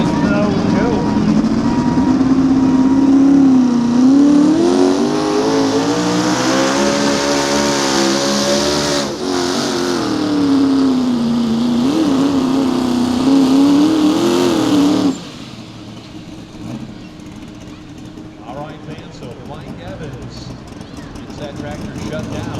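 A mini rod tractor-pulling machine with a small block engine roars loudly and continuously down a dirt track in Nashville, Illinois, its pitch wavering under load before cutting off abruptly, leaving quieter crowd and ambient noise.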